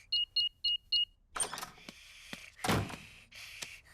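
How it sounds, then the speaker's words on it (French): Four quick electronic beeps sound in a row as a house alarm is switched off, followed by mechanical clunks and a heavy thud, close by, in a Peppa Pig cartoon. "Je vais d'abord désactiver l'alarme."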